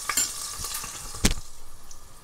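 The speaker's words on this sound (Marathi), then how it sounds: "या मिरच्या पण ना थोडशा याचा फ्लेवर निघेपर्यंत मी या तेलान या तलून घेतन" Green chilies sizzle and fry in hot oil with cumin seasoning for a sweet potato dish, a close, steady crackle with one sharp burst of spitting partway through.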